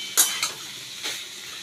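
Fig and shrimp curry being stirred in a pan, a few short scraping strokes over a soft steady sizzle, close and fairly quiet.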